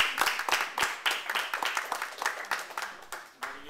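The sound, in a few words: guests clapping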